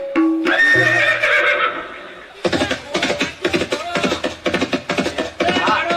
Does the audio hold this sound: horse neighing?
yes